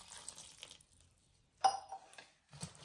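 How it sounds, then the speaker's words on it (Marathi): Water poured over quartered brinjals in a vessel, short quiet splashing bursts with a louder pour in the middle and a brief splash near the end, separated by near silence. "आता आपण पाणी टाकू त्यात"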